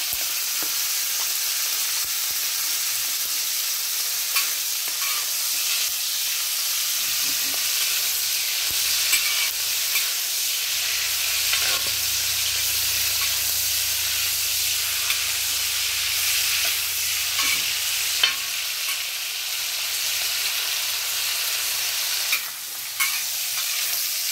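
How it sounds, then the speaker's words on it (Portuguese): Pork cracklings and sun-dried beef fry together in a pan for feijão tropeiro, a long even close sizzle with occasional stirring clinks and a low hum partway through. "agora eu vou acrescentar aqui a carne de sol. Vou fritar junto com ele"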